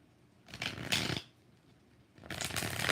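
Tarot cards are shuffled by hand in two separate bursts of riffling with a pause between them, close and fairly loud.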